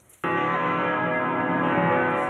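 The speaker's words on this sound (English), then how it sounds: "Across the city, church bells rang out" Church bells ring out across Montreal, celebrating 375 years since the founding of Ville-Marie. A dense, sustained peal of many tones starts abruptly after a brief quiet moment and stays loud and steady throughout.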